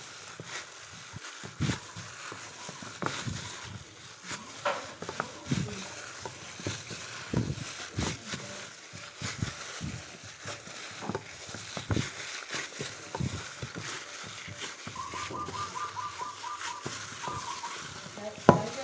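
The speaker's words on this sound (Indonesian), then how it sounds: "Dan ini saya mencampurnya pakai tangan ya, biar mudah untuk tercampur rata semuanya." Purple sweet potato dough being mixed and kneaded by hand with palm sugar, giving soft, irregular squelching and pressing sounds close by, with scattered sharper taps and no talk.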